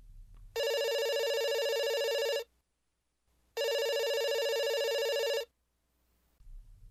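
A telephone bell rings in two long, loud bursts separated by a short silence, clear and close.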